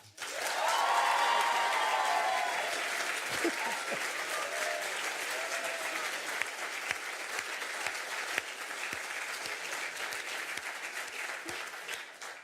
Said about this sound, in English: And secondly, it's two countries, but only one round of applause, please, for Egypt/Switzerland, Ossama Khalaf.